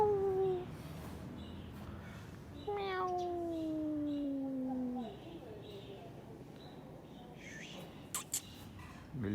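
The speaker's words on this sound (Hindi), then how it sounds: "बिल्ली" A cat meows several times, two long drawn-out cries and shorter calls, fairly close over a noisy background with a few faint clicks and scrapes.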